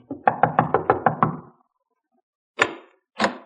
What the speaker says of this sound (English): Knock on the door, Mark.